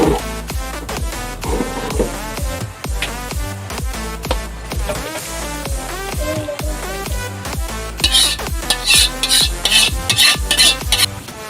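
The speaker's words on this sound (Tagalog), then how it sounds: "Ita-transfer ko lang po siya sa isang lalagyan." Creamy chicken cooked with Nestle cream and cream-style corn is stirred and scraped in a pot and spooned into a container, giving a steady run of close, wet scraping and clinking with a soft sizzle.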